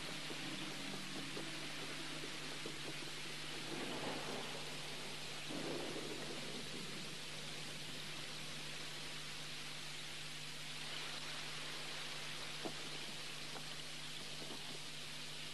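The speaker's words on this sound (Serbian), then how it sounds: "pada kiša." A sudden heavy downpour in an animated cartoon scene, with rain hissing steadily and thunder rumbling over a faint, sustained low hum.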